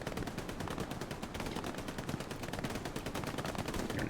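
Dense, rapid machine gun fire in an 18-versus-18 competitive match of a war video game, a continuous rattling burst of shots that stays loud and steady throughout, with no talking over it.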